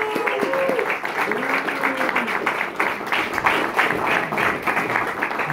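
Crowd applause at a boxing press conference in a large venue, steady clapping running throughout with a voice speaking over it and some tonal sounds in the background.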